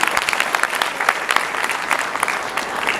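An audience at an Oriflame India master class breaks into applause for visiting speakers, a close, full wash of many hands clapping with crisp individual claps standing out throughout.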